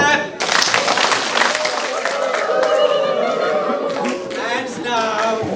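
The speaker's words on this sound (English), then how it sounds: "So hands up, clap." An audience at an entrepreneurship education event claps hands together in a burst of applause, a dense crowd sound that rises quickly and holds steady, with some chuckles and voices mixed in.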